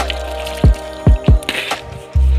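Water from a small hilltop spring on the Rupakot ridge trickles and drips nearby in distinct, irregular plops, with a few low splashy drops over a faint running trickle.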